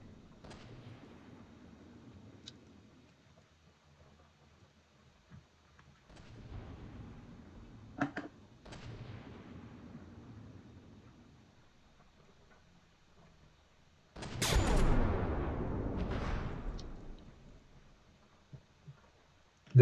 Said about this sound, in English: His cram gun seems to be doing most of the damage.